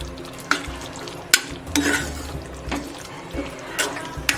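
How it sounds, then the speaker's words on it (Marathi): A green pavta bean and potato curry is being stirred and mixed in a pan, giving soft irregular scrapes and wet clacks over a low sizzle. No one speaks. "व्यवस्थित मिक्स करून घेऊया"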